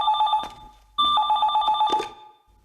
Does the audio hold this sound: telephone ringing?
yes